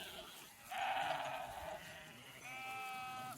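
Two sheep bleats a little way off from a grazing flock, the second higher and more nasal, over steady outdoor background noise.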